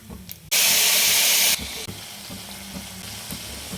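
A loud hissing sizzle bursts out as dry red chillies, turmeric and tamarind juice hit hot oil in a pan for a radish coconut spice curry, then settles into a steady, quieter frying crackle.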